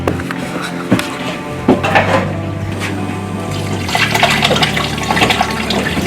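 Water pours steadily into a pot holding three bear skulls, a continuous rushing fill with a few knocks and clunks, close and fairly loud.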